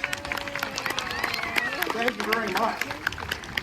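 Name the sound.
audience applause at a birds of prey show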